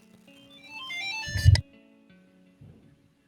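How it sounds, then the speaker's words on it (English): A mobile phone ringtone plays a short rising electronic melody at moderate volume, swells briefly with a low bump and then cuts off into near silence. "think Amelia's phone agrees with you"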